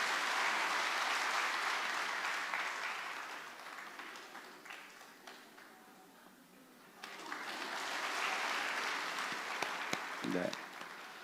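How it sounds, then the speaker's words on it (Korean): A church congregation applauds to bless a child at a Sunday worship service, a broad, steady clatter of clapping that thins and dips midway, then swells again before fading, with a brief voice near the end. "우리 박수로 이 아이를 축복합니다"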